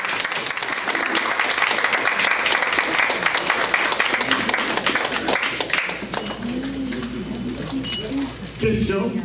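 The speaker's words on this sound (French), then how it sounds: "Et nous devons aussi vous demander d'applaudir la mère et la sœur de Jimmy qui sont avec nous." An audience at a book signing in Florida claps, with loud, dense applause that thins out midway and is followed by quieter scattered taps and a few voices.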